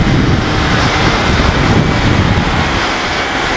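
A Suzuki Raider 150 FI motorcycle rides in fourth gear, a loud continuous engine drone heavily buried in rushing wind buffeting the microphone.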